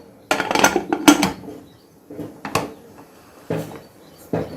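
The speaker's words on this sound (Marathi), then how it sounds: "आता एक उकळी आल्यावर आपण कुकरचे झाकण लावून घेऊ" Several sharp metallic clanks and knocks in short bursts as a pressure cooker lid is fitted and locked into place over cooking mutton, with no talking.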